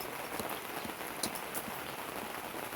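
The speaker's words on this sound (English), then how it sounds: "So just let you guys listen to the rain." Rain during a thunderstorm in Toronto, a steady dense hiss of drops on surfaces with scattered louder individual splats, constant and moderately faint, no voices.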